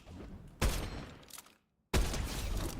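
Two loud, close sniper rifle blasts in a video game, each a sharp crack followed by a long rumbling tail, separated by a brief moment of silence.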